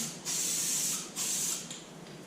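A spray can of primer hisses in two short bursts onto a Honda CBR250R MC19 fuel tank, a steady close airy spray with a brief pause between, then a shorter third puff.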